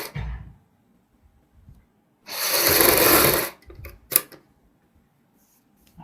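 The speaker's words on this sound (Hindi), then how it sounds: "अब हमने बुकरम के ऊपर सिलाई लगानी है।" A sewing machine runs one short, steady burst of about a second, stitching on buckram for a kurti neck, with soft handling clicks and a light tap before and after.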